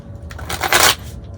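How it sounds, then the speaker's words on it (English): Tarot cards shuffled by hand at close range, a soft papery riffle that swells to a brief louder burst near the end, then fades. "One more shuffle."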